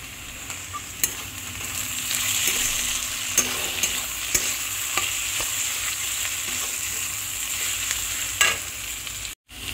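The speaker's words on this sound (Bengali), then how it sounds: "যখন আলু আর পেঁয়াজটা এরকম মিডিয়াম ভাজা ভাজা হয়ে যাবে" Sliced potatoes and a generous amount of onion frying with salt in a pan for a spicy semolina breakfast, giving a continuous loud sizzle with occasional spatula taps and stirring scrapes up close.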